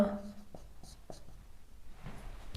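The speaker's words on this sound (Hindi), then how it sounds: "यहाँ पे मैं लिखता हूं" Chalk or marker scratches faintly across a classroom board in a few short strokes during a maths lesson, quiet and close against a soft room hum.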